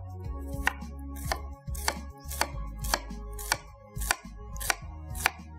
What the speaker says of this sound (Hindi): 1 अदद लेंगे प्याज और प्याज को करेंगे स्लाइस।